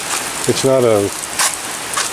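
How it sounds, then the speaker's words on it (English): Steady light rain falls on a farm in the Philippines as a soft, continuous hiss, with a voice speaking briefly over it. "Well, this is the kind of rain I've been waiting for."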